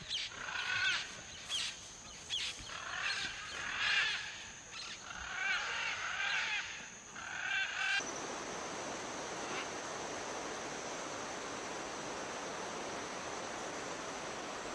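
Blue and yellow macaw calling in a Central American forest park, a series of harsh, raspy squawks at mid distance over a constant wash of rushing water or forest noise, after which the calls give way to steady hiss.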